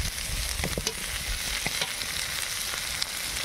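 Pointed gourd, potatoes, pumpkin and beans fry in a pan for a bitter-gourd-leaf chorchori, with a steady soft sizzle and the occasional scrape and clink of a spoon stirring them close up.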